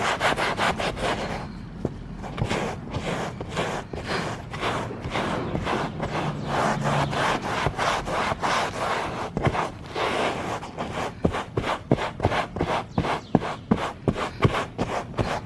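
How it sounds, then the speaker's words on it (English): A brush scrubs SONAX Alcantara upholstery cleaner into fabric with fast, rhythmic back-and-forth strokes, each one a raspy rub, steady and close throughout. "we'll go ahead and just rub it in some more"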